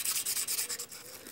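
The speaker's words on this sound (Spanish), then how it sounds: "tomamos la hoja de lija y le damos para que su parte quede totalmente, la parte desgastada quede totalmente lisa con el resto" Sandpaper rubbed briskly back and forth across a worn overlock machine blade to smooth it, giving a steady run of close, dry scratching strokes that slow and soften toward the end, with no voices.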